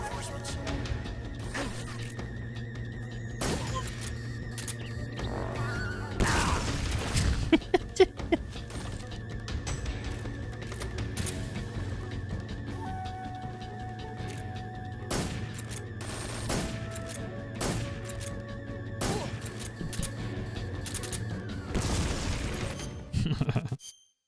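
Gunfire from the player's weapon in Metal Gear Solid 3 (PS5 Master Collection) comes as a cluster of loud bursts about a third of the way in, with more scattered shots later over a steady hum of game sound.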